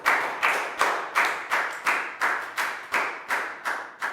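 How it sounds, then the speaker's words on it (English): About a dozen evenly spaced claps ring out in a classroom, steady and fairly loud, like one or a few people clapping in rhythm rather than a full crowd. "And a big round of applause for everybody doing a great job."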